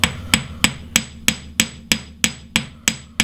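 Ball peen hammer pounding silver wire on a hard block for a wire-wrap necklace, eleven crisp, evenly spaced metallic strikes with short ringing decay, loud and close with no talking.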